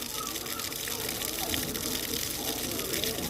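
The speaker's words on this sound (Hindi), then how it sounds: "और अभी पानी भी देखें कितना तेज़ आना शुरू हो गया" Water gushing hard and fast from a drain pipe while a water tank is cleaned, a loud, steady, hissing rush of flowing water with no breaks.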